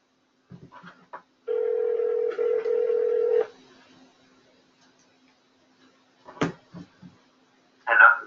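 A telephone line dial tone holds steady for about two seconds, with scattered short tone blips and clicks of dialing before and after, heard close and fairly quiet.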